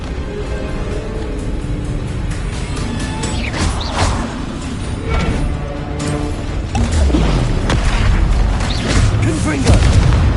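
In Hogwarts Legacy, the Confringo explosive spell lets off repeated loud booming blasts and crashes amid game combat noise, with a voice shouting spell names over them.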